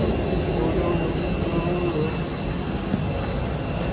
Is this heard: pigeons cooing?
no